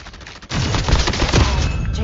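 Automatic gunfire from a computer-controlled bot in a video game, a loud, close, sustained burst of rapid shots that breaks out suddenly and runs continuously for over a second.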